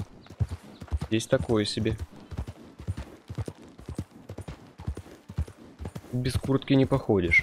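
A horse's hooves clip-clop at a slow walk through snowy mountain terrain in Red Dead Redemption 2, a soft rhythmic patter beneath someone talking almost continuously.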